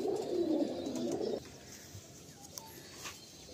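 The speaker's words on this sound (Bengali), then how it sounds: "এই একটা আমার ব্রিডার পায়রা আছে" Breeder pigeons give a low, breathy coo for over a second, close by, then fall silent apart from a few faint chirps and small sounds.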